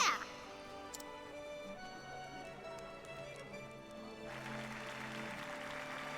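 Light applause ripples through a crowd in the video game Octopath Traveler, a soft continuous patter of clapping that swells slightly toward the end, with a brief sharp sound at the start.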